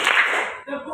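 Children in a classroom clap their hands together in a short, brisk burst, with voices mixed in around the claps.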